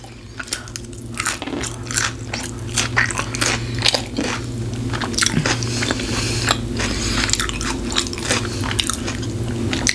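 Close, loud biting and chewing of a large Five Guys burger, with wet squishy crunches repeating steadily over a low steady background hum, no talking.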